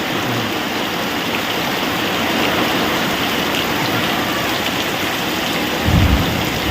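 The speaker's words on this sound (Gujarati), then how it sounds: "ફૂલ વરસાદ ચાલુ થઈ ગયો રેડા આવે" Heavy rain pours steadily outdoors in a village during a thunderstorm, a dense continuous wash of noise, with a low rumble of thunder rising near the end; no talking.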